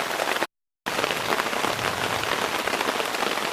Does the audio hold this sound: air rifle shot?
no